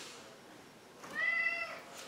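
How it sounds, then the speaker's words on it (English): A pet cat gives a single faint indoor meow, asking to be let in, and it rises briefly out of quiet room background. "Sorry, my cat wants to come in."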